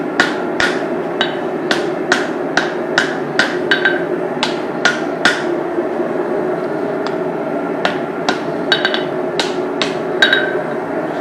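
A hammer drives a drift through the eye of a forged tomahawk, sharp ringing metallic blows struck in a steady, quick rhythm with brief pauses between bursts.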